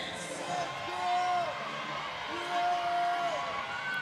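A climbing coach cheers and whoops loudly from near the wall during a lead climbing final at Briançon, the shouts rising in two bursts over a steady crowd murmur and background voices.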